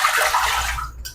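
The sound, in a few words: water being added to a pasta machine mixer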